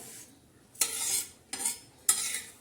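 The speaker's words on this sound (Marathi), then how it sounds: "हे बघा आपण अशी छान अशी ही आळशी भाजून घेणार आहोत" Flax seeds dry-roasting in a pan are stirred in three distinct scraping sweeps, each a sharp, close rasp of seeds and utensil against metal, with quiet pauses between.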